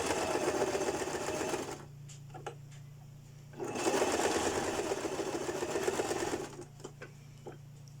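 A sewing machine stitches a bra seam on a French-cut bra at a one-centimetre allowance, running in two steady whirring stretches separated by a short pause with light clicks, moderately close and with no voices.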